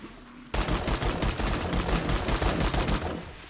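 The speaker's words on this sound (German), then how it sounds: "Nochmal, ich versuche drauf zu schießen." Rapid bursts of gunfire from 7 Days to Die crackle in a dense, loud, near volley that starts abruptly and continues without a break, with no talk over it.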